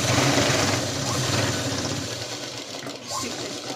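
Sewing machine stitching a pencil cut pant, a steady fast whirring run that is loud at first and eases slightly toward the end, heard close with no talk.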